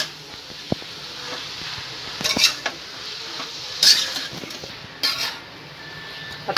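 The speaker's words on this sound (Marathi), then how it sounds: "आता मिक्स करून घेऊया चांगल्या मसाल्यामध्ये" Spoon stirring boiled potatoes into masala in a pan for vada pav filling, with faint scraping and a few sharp metallic clinks of utensil on the pan, quiet and sparse with no talking.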